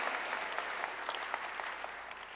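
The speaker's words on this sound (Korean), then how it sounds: "박수로 하나님께 영광 돌려" A church congregation claps together in praise of God, a steady, dense wash of applause with individual sharp claps popping out, close and sustained throughout.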